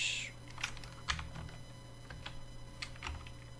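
Someone types a web search on a computer keyboard, with brisk uneven key clicks close up over a faint steady hum.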